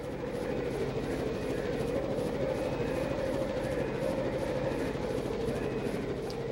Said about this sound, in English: if I could get a ride on that chopper